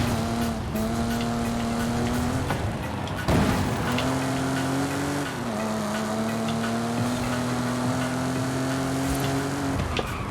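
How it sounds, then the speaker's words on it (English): An older car's fruity exhaust note in Forza Horizon 5 holds a loud, steady drone that climbs and dips with shifts and throttle changes over about ten seconds, with no voices. "There's something so nice and fruity about the older exhaust pipes."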